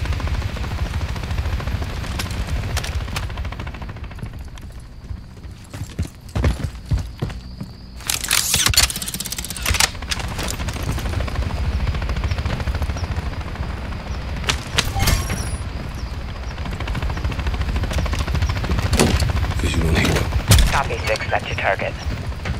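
Combat in the video game Call of Duty Modern Warfare 3, with a helicopter's steady rotor rumble underneath bursts of gunfire and sharp impacts, loud and close, while voices talk over the action.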